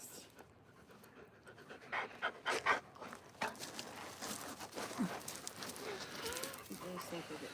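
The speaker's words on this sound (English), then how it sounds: "Yeah, there's some good dogs." Dogs pant steadily beside an outdoor fire being built, quick breathy huffs growing louder around the second and third seconds and then continuing softly, with light rustling and movement around them.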